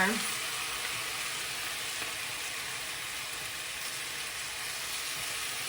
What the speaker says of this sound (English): I'm going to stir all that liquid up to get all the good stuff off of the bottom of the pan